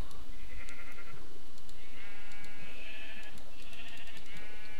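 Sheep in a survival video game bleat several times in quick succession, short wavering calls over a steady background hum.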